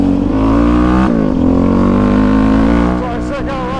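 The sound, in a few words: Raptor 700 ATV engine revving on winter ride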